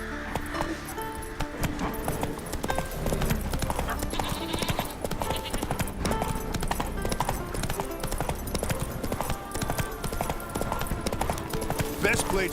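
A horse gallops at speed in The Witcher 3, its hooves beating in a fast, steady clip-clop with faint jingling tack, while voices talk intermittently over the hoofbeats.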